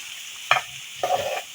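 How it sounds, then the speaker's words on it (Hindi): A breakfast stuffing mixture with chicken gets stirred in a hot pan, giving two short bursts of scraping and sizzling over a steady frying hiss. "इसको भी हम साथ में मिक्स कर लेंगे।"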